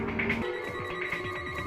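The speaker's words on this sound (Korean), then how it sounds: "전화를 받는 캐런" A telephone rings during a tense thriller film scene, a steady repeating electronic ring with a continuous tone above it, fairly close and alone with no talk.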